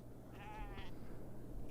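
A goat in the video game SoM gives a single short, quavering bleat, faint against a low background hum.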